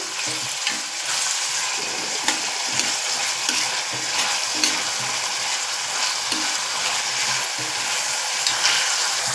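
Crushed garlic cloves and a chopped tomato sizzle and spit in hot oil for a Marathi fish curry, a loud, continuous frying crackle with occasional stirring scrapes and no talk.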